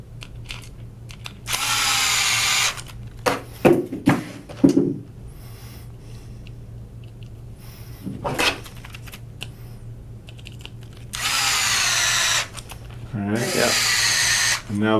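Cordless screwdriver or drill driving screws to mount a replacement front motor onto a gear platform assembly, several sustained whirring bursts with pauses and small clicks between, close and fairly loud under a steady hum.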